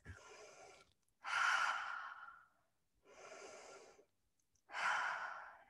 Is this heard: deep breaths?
yes